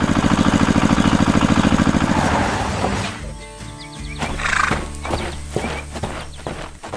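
Horses in an animated farm cartoon give a loud whinny in the opening seconds, then hooves clip-clop in a loose rhythm under a busy music-like backdrop.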